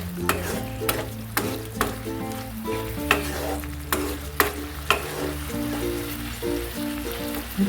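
Soy sauce and tomato ketchup simmer in a pan for bread chilli, giving a steady close sizzle broken by regular scraping knocks of stirring. No one speaks.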